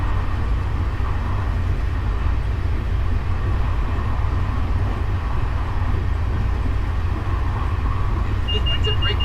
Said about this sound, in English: Right now we're just hanging out playing some Train Simulator